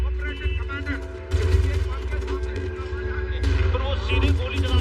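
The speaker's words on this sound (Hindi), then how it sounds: "सुन सकते हैं मेरे पीछे गोलियों की आवाज चल रही है।" Gunfire during a suicide squad's attack on parliament: bursts of sharp shots and crackling fire behind someone speaking, rising louder midway and again near the end.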